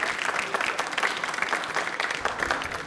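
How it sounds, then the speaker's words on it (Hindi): Strong, continuous applause from a studio audience at a televised general-knowledge quiz show, dense clapping filling the whole stretch without talk. "तालियां अपने लिए बजा दीजिए एक बार जोरदार वाली"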